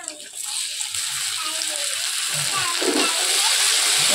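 Spices, chilli powder, turmeric, salt and tomato paste sizzle and sauté in a pan for a chicken curry, a steady broadband frying hiss throughout with occasional stirring scrapes, fairly close.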